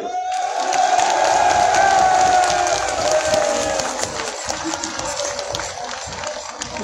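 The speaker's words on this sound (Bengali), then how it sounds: "সকলে মিলে একটা জোরে সরে করতালি।" Crowd at an outdoor political rally in Madhupur, Bangladesh, roaring and clapping together, a loud sustained wash of cheers and applause that peaks early then gradually thins.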